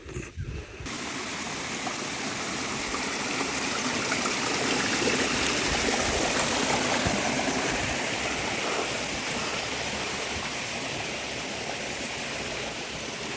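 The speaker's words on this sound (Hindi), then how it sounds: "तो अब हम चलते हैं धारा की तरफ," A forest stream in a village flows with a continuous, loud rushing and gurgling of water, steady throughout with no voices.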